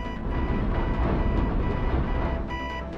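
A steady high-pitched electronic beeping repeats over a dense rumbling engine-like noise, loud and continuous, with no voices.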